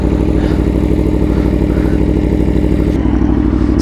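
An Aprilia Tuono V4R motorcycle engine runs loud and close with a steady, throbbing mid-range drone throughout, with no talk.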